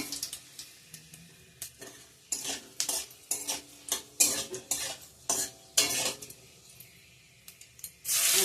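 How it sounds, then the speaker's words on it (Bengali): Lentils fried with panch phoron five-spice in a pan, heard as quiet rhythmic scraping and stirring strokes of a spoon against the metal over a faint sizzle, with a brief pause before the sizzling swells near the end. "ছোটো ডালটা দিয়ে দেবো ডালটা ভেজে নিচ্ছি"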